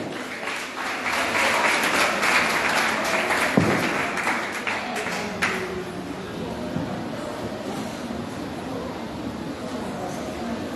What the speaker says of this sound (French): sous vos applaudissements, accueillons-nous Zorana Michel